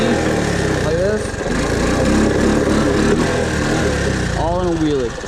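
Engine of a Honda ATC three-wheeler, close and loud, buzzing steadily and revving up in quick bursts during a wheelie.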